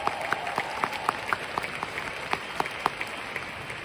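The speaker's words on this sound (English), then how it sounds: "Can we give Riway a round of applause today?" An audience at a Riway business seminar claps for the company, with sparse, fairly distinct handclaps in a steady scattered rhythm over a soft, even crowd wash for a few seconds.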